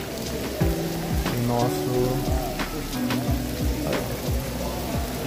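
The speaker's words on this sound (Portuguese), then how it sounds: "Eles fizeram um formato de chuva, né, representando a chuva caindo" Water falls like rain in a rain-style display at a freshwater aquarium in Lausanne, a continuous pattering splash with voices talking over it.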